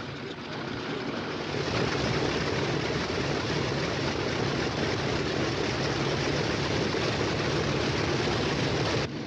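Propeller airplane engine drones in a steady, loud, broadband roar that swells after a moment and holds evenly throughout, with no voices over it.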